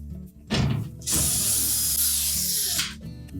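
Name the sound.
removing mounting screws from GE washer water valve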